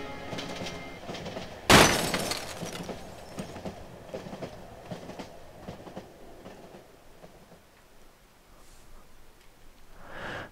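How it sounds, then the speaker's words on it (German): A train rumbles along in the horror game Cry of Fear, a steady rolling drone with a sharp crash near the start and faint clattering that slowly fades. "Ja, dann nehmen wir einen Zug."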